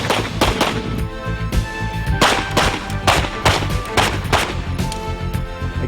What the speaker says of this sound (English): you're asked to fire 2 shots on each target from behind cover